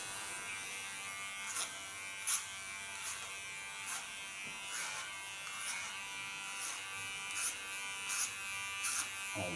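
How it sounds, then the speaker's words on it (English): An electric hair clipper buzzes steadily while cutting thick hair, a close, thin whine with periodic brief bursts as the blade bites, and no talking. "Sometimes my clipper gets stuck."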